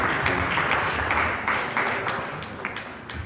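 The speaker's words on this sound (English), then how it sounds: "Can we give a hand of applause to our members of Army?" Audience applause at a fundraising dinner banquet and awards gala, a dense steady wash of many hands clapping that fades slightly toward the end.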